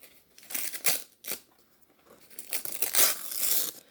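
Heavily taped gift wrapping ripped and crinkled off a book in bursts of tearing paper, close and loud, with short pauses between pulls and a longer crumpling stretch at the end.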